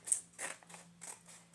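Scissors snip through pages of a little golden book being made into a journal, a few quiet crisp cuts close by.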